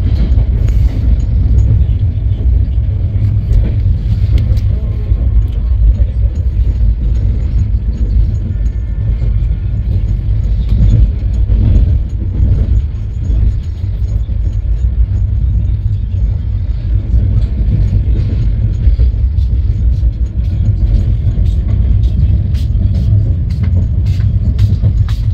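Inside a 3AC coach of the Patna Garib Rath Express, a steady heavy rumble of the running train with rail clatter and low rolling noise, loud and unbroken throughout.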